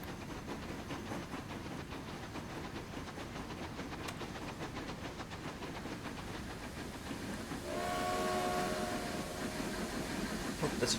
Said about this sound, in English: Oh, there's a train coming in.